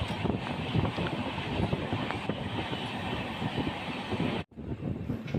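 Sampark Kranti express train approaching Belagavi station, heard from on board as a steady rumble with rhythmic wheel clatter and wind buffeting, with a brief dropout near the end.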